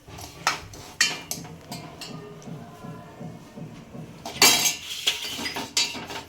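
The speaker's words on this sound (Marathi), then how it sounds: "तुपामध्ये शेवया आपण व्यवस्थित अशा परतून घेऊया" Vermicelli is stirred and roasted in ghee in a pot on a gas stove, heard as intermittent metal spoon clinks and scrapes against the pot with a faint sizzle underneath.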